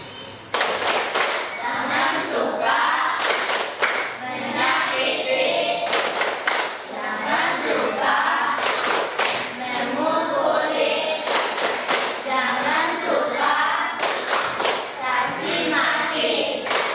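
A classroom group of children performs a rhythmic clapping chant, bursts of loud, sharp claps in repeated patterns separated by brief pauses, with voices chanting along between the clap runs.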